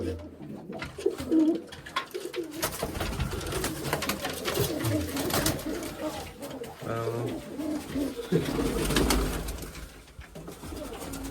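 Pigeons coo in a dovecote, their soft throaty calls repeating close by against a cluttered background of rustling and shuffling, with a faint voice now and then.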